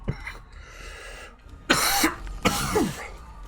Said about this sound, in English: I'm getting real tired of this cough.